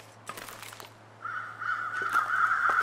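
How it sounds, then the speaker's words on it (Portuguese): Crows caw from the wintry wilderness of the survival game The Long Dark: a few faint calls early on, then a louder, sustained cawing chorus that keeps building to the end. "Por que que esses corvos malditos estão fazendo isso, galera?"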